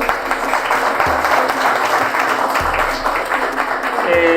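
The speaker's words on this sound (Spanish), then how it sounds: "Quiero que primero le demos una bienvenida con un aplauso a Mauricio, que está con nosotros." Steady applause from a crowd fills the whole stretch, dense and even, with a few voices faintly mixed underneath.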